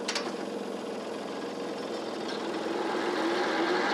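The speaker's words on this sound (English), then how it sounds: "That's the first time we've spun the drums since we've had it put together, and they spin pretty fast." Freshly assembled drum mower with its drums spinning fast for the first time, a steady mechanical whir and engine drone that holds throughout and grows slightly louder toward the end, with no talk.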